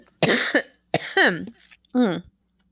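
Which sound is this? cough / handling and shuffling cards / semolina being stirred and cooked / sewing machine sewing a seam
cough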